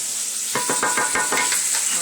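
Chicken pieces browning in a hot pan for chicken marsala, a steady loud sizzle with a few scraping stirs or turns cutting through it.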